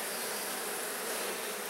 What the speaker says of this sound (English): Go away, bees, I don't want to squish